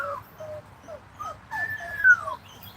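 Dog whining nearby in a series of high, thin whimpers, short rising and falling cries with one longer drawn-out whine, over a low background hum.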